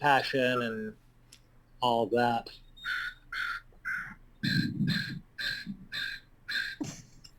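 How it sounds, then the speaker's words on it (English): Crows cawing outdoors near Horseshoe Bay, a series of short harsh caws repeating in a steady rhythm after a woman's speech, close and clear, with a voice talking at the start. "I was just leaving that space open to hear the crows singing there. It's quite beautiful."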